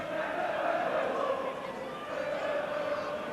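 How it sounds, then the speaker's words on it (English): Football stadium crowd at Everton versus Tottenham in 1982, applauding and murmuring after goalkeeper Southall's second save, a broad sustained wash of distant crowd noise with a commentator talking over it. "the goalkeeper gets applause for the second save"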